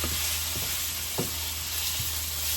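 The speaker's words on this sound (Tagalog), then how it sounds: "gisa lang natin itong pork" Pork sautés in a hot pan with a dense, continuous sizzle, broken by a few scraping stirs, loud and close with no voices.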